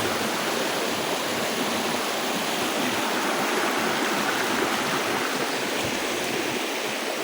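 Steady rushing water of a river in Iriga City, Philippines, flowing continuously, a broad even wash of sound like a stream running over rocks, with no voices.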